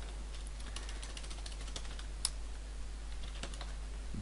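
Light, steady typing on a computer keyboard, rapid soft keystrokes pattering continuously with one sharper tap midway, close but quiet over a constant low hum, no voices.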